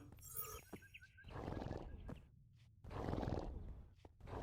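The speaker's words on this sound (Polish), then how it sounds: "Jakiegoś konia tu słyszę." A Minecraft horse whinnies with a high, wavering call near the start, followed by deeper rumbling animal sounds and low noise.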